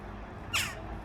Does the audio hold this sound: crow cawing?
yes